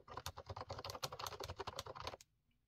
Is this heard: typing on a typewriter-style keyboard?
yes